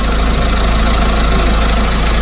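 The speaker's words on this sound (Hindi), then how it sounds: "ये मतलब एसी पाइप की आवाज है। ये वाइब्रेट हो रहे हैं ये।" A Mahindra Scorpio-N engine idles with a loud, steady low rumble close by, and a vibrating AC pipe adds a constant buzzing rattle that runs evenly throughout.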